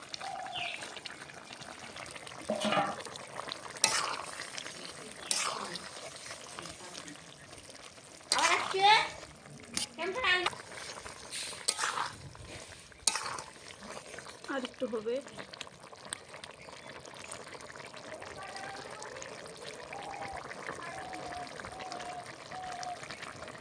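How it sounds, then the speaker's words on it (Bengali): Fried puti fish slide into a simmering vegetable broth of potato and brinjal, giving soft bubbling and sizzling with faint splashes and clinks under a steady low hiss. "ঝোলটা ফুটে উঠেছে এখন ভেজে রাখা মাছগুলো দিয়ে দেবো"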